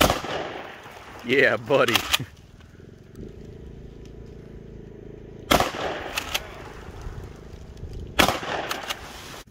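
Shotgun blasts bust out a car's front windshield, two sharp loud reports with shattering, spaced several seconds apart, following a short burst of talk.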